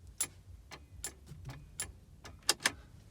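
Hazard lights ticking inside a Skoda Favorit 136L, a sparse, irregular series of sharp clicks close by, fairly loud against a quiet cabin.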